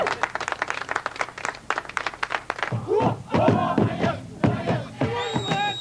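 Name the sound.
applause at a boma welcome ceremony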